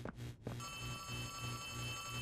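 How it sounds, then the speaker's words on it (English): A telephone rings in the Poppy Playtime Chapter 3 video game, repeating steady pulsed rings throughout after a brief opening noise, fairly loud and with no talk over it. "There's a phone. Where's the phone?"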